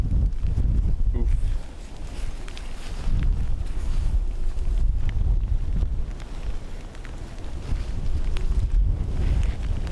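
Strong wind at Dublin Airport buffets the microphone in continuous loud, low rumbling gusts that swell and ease, with no clear voices.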